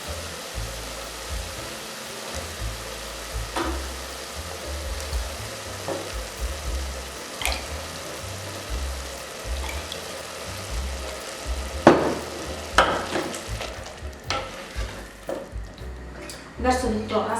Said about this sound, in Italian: Aggiungo la salsa di pomodoro.